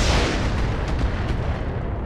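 Mech weapons fire in the RogueTech video game as a loud burst of booming, artillery-like shots that quickly trail off into a rumbling decay, with no talk.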